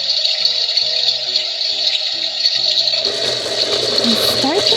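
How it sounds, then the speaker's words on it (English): A toy washing machine fills with water: a steady watery gush and hum runs throughout, with light plastic clicks in the first three seconds and a few faint squeaks near the end. "Press the bow for some water."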